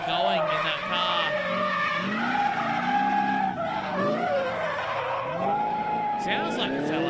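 A drift car with an LS engine skids at a state series drifting event, its engine wailing and revving in sweeping pitch changes, loud and continuous, with tyre squeal and a voice over the top.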